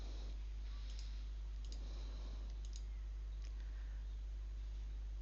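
Mouse clicks in layer-configuration software, a handful of light, sharp clicks spaced across the clip over a faint steady hum, with no talking.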